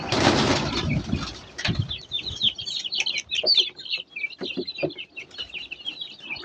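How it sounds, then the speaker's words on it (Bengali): Hungry chicken chicks crowd together, a flurry of shrill high peeps and cheeps close by. A burst of wing flapping or scuffling opens the scene, and some lower clucks sound among the chirping. "আর এখানে কতগুলো মুরগির বাচ্চা আছে।"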